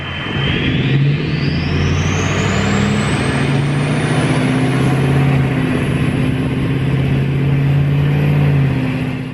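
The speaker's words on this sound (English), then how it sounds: "That turbo is so loud." A loud turbocharged bus engine revs close up, with a rising turbo whine climbing steadily over a deep, continuous motor roar.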